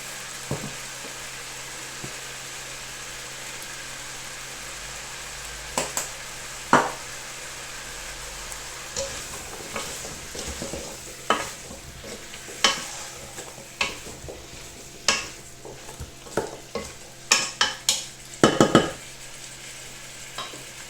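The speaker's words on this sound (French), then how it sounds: "je vais ajouter les légumes. Je vais faire revenir tout ça ensemble." Vegetables sizzle as they are sautéed in a pan at a home kitchen, a steady frying hiss broken by sharp utensil clacks and scrapes that grow more frequent toward the end.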